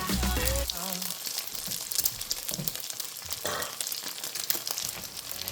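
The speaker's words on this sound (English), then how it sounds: "See how it fries nice and good there?" Phad thai noodles and ingredients frying and being stirred in a hot pan, Bangkok street style, with a steady loud sizzle, clattering stirs and short bursts throughout.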